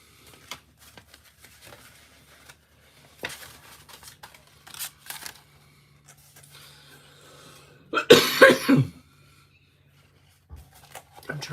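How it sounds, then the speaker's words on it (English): A person coughs repeatedly while trying to shake off a lingering cough, a harsh cluster of close coughs in the middle between quieter rustling and some talk. "I'm trying to get past a cough that does not want to let go."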